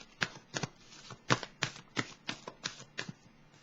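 Tarot cards being shuffled and drawn, a series of about ten crisp papery snaps and riffles at an irregular, fairly quick pace, close and quiet, with no talk.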